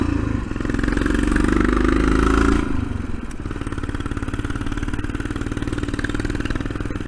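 Thumper, a kick-started single-cylinder motorcycle without an electric starter, runs loud with a rising tone, then drops to a steady, rapid thumping idle close by for the rest of the clip.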